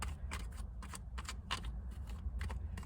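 Tarot cards are shuffled in quick, quiet riffling bursts, repeated in an uneven rhythm over a low background hum with no talking.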